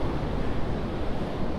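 Ocean waves wash onto a winter beach at Donghae, South Korea, a dense, continuous roar mixed with gusty wind rumbling against the microphone, loud and close with no voices.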